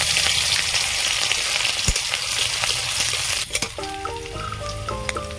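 Chopped chilli hitting hot oil in a wok while making a potato filling, a loud, dense close sizzle with crackles, then a clink, with tonal beeps or music joining near the end.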